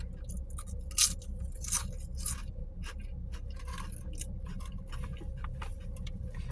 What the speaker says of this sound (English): They're the all dressed chips that I've been eating all week